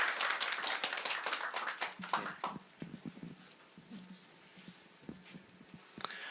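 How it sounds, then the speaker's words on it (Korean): A scattered, fairly quiet round of audience applause greets a guest speaker at a lecture event, with brisk claps at first that thin out into sparse, irregular hand claps. "박수로 확인해 주시면 됩니다."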